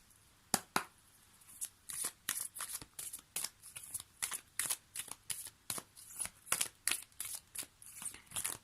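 Oracle cards being shuffled by hand in a steady run of crisp, riffling bursts, close and fairly quiet, with no talking.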